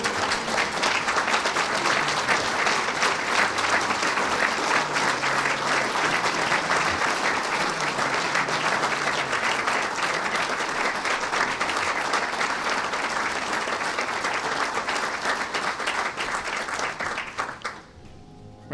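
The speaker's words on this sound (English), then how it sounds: "Round of applause for these veterans, please." Sustained applause from a large audience at a ceremony honoring Vietnam veterans, dense and even for a long stretch, then fading away at the end.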